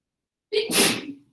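A single close, sharp human sneeze bursts out after a short silence, a quick intake followed by a loud, breathy explosive release that trails off within under a second.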